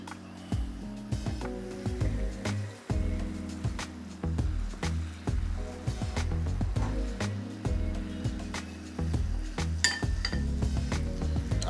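Pots and pans clatter in a kitchen during a check on pork chops for a pork stew, with repeated close metallic clinks and knocks of lids and utensils going on throughout.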